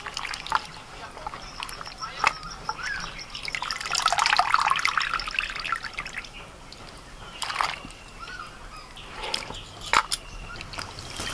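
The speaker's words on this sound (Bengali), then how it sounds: "এই জল থেকে আবার ওই জলে তুলে দিতে হবে" Potato slices washed by hand and lifted between bowls of water, with splashes, trickles and drips near by, a fuller burst of sloshing midway, under occasional talking.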